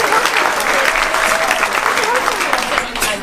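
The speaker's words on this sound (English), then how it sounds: "Let's give a round of applause to our participants" An audience applauds participants at a daytime event, a loud, dense crowd clapping continuously and close, with some voices mixed in beneath, fading slightly at the end.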